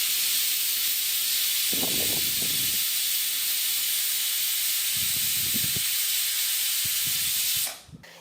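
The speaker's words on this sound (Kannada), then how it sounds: "ಕುಕ್ಕರ್ ಕ್ಲೋಸ್ ಮಾಡಿ ಒಂದು 4 ವಿಜಿಲ್ ಕೂಗಲ್ರಿ" A pressure cooker whistle vents steam while rice papad dough cooks, a loud steady hiss that runs unbroken for several seconds with a few soft low knocks beneath, then cuts off abruptly near the end.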